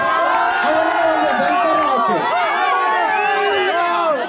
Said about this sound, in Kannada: ಅದೇ ಒಂದು ಜೈಕಾರ